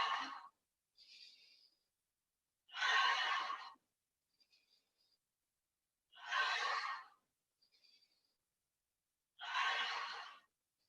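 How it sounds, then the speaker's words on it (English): Audible breaths out through the mouth during a core exercise class, four long airy exhales spaced evenly a few seconds apart with quieter short inhales between, close and otherwise silent. "You can breathe out through your mouth."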